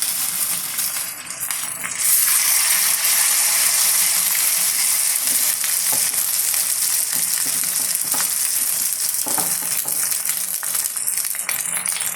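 Ripe Palayamkodan banana fritters (pazham pori) dipped in batter deep-fry in oil with a loud, steady, close sizzle and occasional light clinks as oil is spooned over them. No one speaks.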